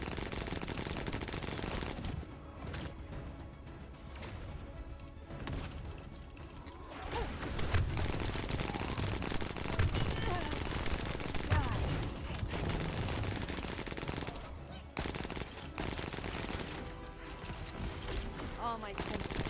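Sustained automatic gunfire unloads on a boss in The First Descendant, a dense rapid rattle of shots layered with game effects and music, with a voice talking over it.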